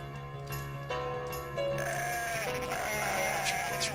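Sheep bleating in the Dreamcast game Cool Herders, a few short bleats over steady game music with tonal chimes and effects, near and clear.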